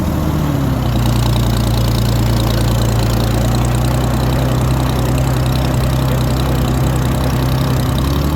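A 1937 Oliver Hart-Parr 70 tractor engine running in fifth gear, a loud, steady low rumbling drone close by, alone without voices.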